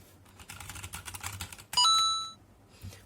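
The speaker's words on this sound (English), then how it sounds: "So these are using brown switches. They are not as loud as the other switches, but they are perfectly adequate for typing," Typing on a METOO Z56 mechanical keyboard with brown switches, a run of quick, soft, close key clicks, interrupted by a sudden bright ringing tone that fades before a last few keystrokes.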